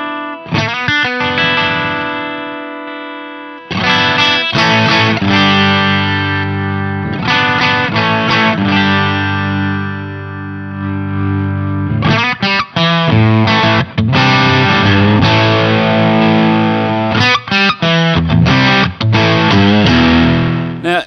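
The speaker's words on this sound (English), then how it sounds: "the smooth switch basically rolls off or gives a different voice to the highs" Overdriven electric guitar runs through an Amptweaker TightDrive Pro with its smooth switch engaged, playing loud chugging chords and short riffs with brief pauses and a softened top end.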